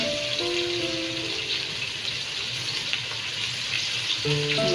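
Ginger and garlic paste fries in a pan for a bottle gourd, lentil and egg curry, giving a steady, close sizzling hiss throughout, with brief tonal sounds at the start and end.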